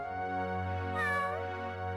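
A cat in the PS1 role-playing game Arc the Lad III gives a short, clear meow over sustained, droning background music.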